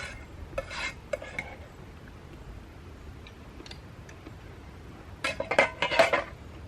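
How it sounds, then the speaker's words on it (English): A fork and knife set down on a metal camping pan after a breakfast of oil-free fried Spam by a lake, heard as scattered light clinks and taps early on and then a close, louder cluster of metallic clatters near the end. "that was the sound of the last mouthful and the fork and knife going down"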